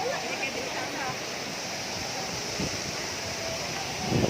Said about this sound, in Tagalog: No, it's just the sprinkle from the falls.